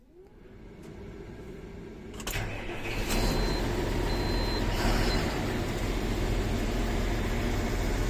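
A tractor engine cranks and catches before seeding soybeans as a cover crop, rising from a starter whir into a loud, steady running rumble with a few sharp clanks and faint beeping tones close by.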